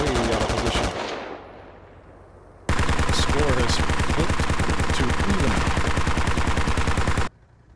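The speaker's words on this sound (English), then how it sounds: "BTR is just throwing ordnance at any sort of hillside" A BTR armored vehicle in the video game Squad fires a long, loud, rapid burst of automatic cannon, preceded by a shorter burst that fades into echoing rumble, then cuts off abruptly.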